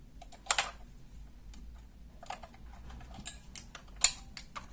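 Four AA batteries being pressed into the compartment of a mini portable sewing machine, heard as scattered sharp plastic clicks and taps close by, with no one talking.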